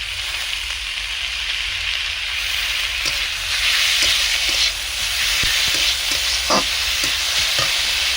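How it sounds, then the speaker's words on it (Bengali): Banana flower chop mixture with boiled banana blossom, boiled potato and ginger paste being mixed in a vessel: steady broadband hiss with scattered soft clicks and scrapes from the mixing, no voices. "ভালো করে মিশিয়ে নেব, দিয়ে ভালোভাবে মিশিয়ে নেব।"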